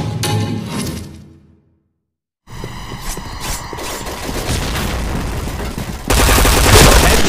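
P90 submachine gun fire in the online shooter Point Blank, rapid automatic bursts crackling loudly and continuously, broken by a brief silent gap, then resuming and growing louder toward the end.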